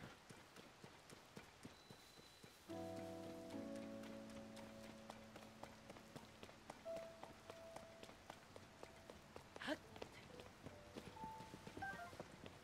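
Rain in Zelda: Tears of the Kingdom patters softly and steadily, with repeated hoof-like clip-clop taps and a low musical tone coming in partway through, faint overall and with no talk.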